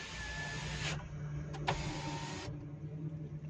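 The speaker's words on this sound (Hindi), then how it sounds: "तो पहले करते हैं विंडोज़ ऊपर" Power windows on an inexpensive 800 cc SUV whir upward in a steady motor hum, with clunks as each window seats. The sound is close and loud, with no talking.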